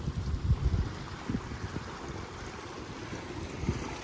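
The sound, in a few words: fresh water stream running down to the beach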